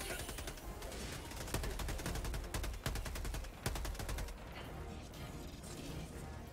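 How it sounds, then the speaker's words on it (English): Gunfire from Helldivers 2 crackles in rapid bursts, with several sharp, louder individual shots standing out among sustained automatic fire, heard at moderate level. "No, I'm being shot at."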